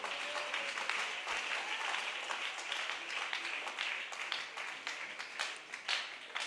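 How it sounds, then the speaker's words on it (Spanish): A church congregation applauding during a sermon, steady sustained clapping from many hands filling the space for several seconds. "Que haya aplausos"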